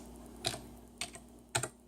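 Three separate bursts of key clicks on a computer keyboard, each a short cluster of taps spaced roughly half a second apart, close and quiet over a faint steady hum.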